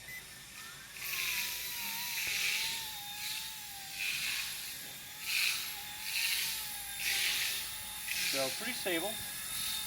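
A Vevor RC toy helicopter with a gyro stabilizer hovers with a steady, thin motor whine that wavers slightly in pitch throughout, while someone talks over it.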